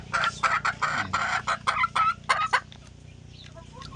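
A sick chicken clucks in a burst of short, sharp, closely spaced calls up close, then falls quiet as soft background noise and a few faint chirps remain.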